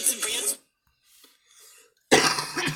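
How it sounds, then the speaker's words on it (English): A single harsh cough bursts out at close range, followed by quiet breathing and a second rough cough. "Sorry for the cough, guys."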